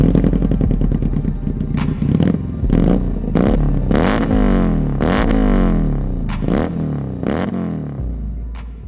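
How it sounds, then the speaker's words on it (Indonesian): A Benda Napoleon Bob 250 motorcycle runs loudly up close, its engine revved repeatedly in rising and falling bursts over a rumbling idle. "motor yang akan kita review kali ini adalah motor dari Benda Napoleon Bob, tapi yang 250 seperti ini"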